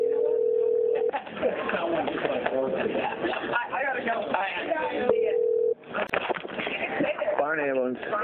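A steady telephone line tone sounds twice while a 911 dispatch call is being transferred, breaking up ongoing talk between callers and a dispatcher.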